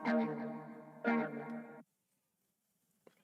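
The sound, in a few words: harmonic tremolo and phaser guitar effect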